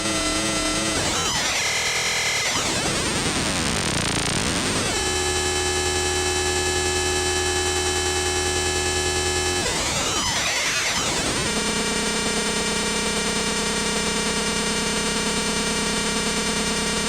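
A frequency-modulation synthesizer voltage-controlled oscillator, one oscillator driving another, produces a dense, loud, harsh tone that sweeps and warbles in pitch, then settles into buzzing sustained pitches, with no speech.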